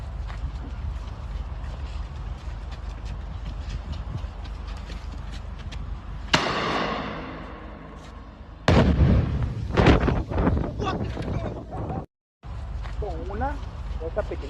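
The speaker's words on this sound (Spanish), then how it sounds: "unos muchachos vienen, ponen fuegos artificiales dentro de un túnel" Fireworks set off inside a tunnel produce sudden sharp blasts with a booming shock wave, two heavy bursts followed by crackling and rumbling echoes over a constant noisy background, with a voice talking through much of it.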